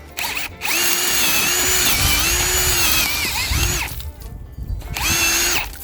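A power drill spins an auger bit into garden soil to make planting holes, a loud steady whine in two long bursts with a short pause between, alone with no talk.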